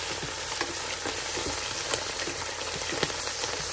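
Onion and meat sizzle in a pot for okra while being stirred, a steady close frying hiss with soft scraping and occasional pops throughout.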